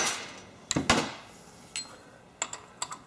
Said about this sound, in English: then just put some pressure on that screwdriver, and then give it a couple of good sharp blows